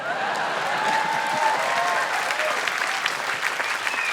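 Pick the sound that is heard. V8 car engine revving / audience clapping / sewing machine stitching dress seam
audience clapping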